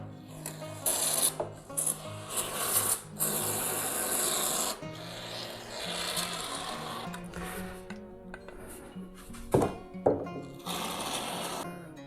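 Mounting foam sprayed from a can under a PVC windowsill, close hissing bursts of varying length separated by short pauses and small clicks.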